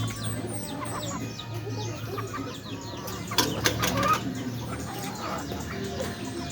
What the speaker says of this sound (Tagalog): sinusundan ba ako ng itim na manok?